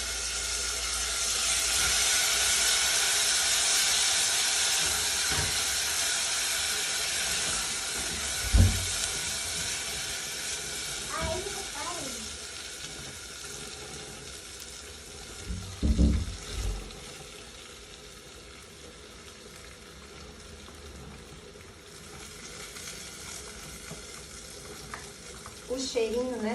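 Beans tipped into a hot pan on raised heat, frying and sizzling with a steady hiss, a couple of sharp louder bursts as they hit the fat and some stirring, no talk.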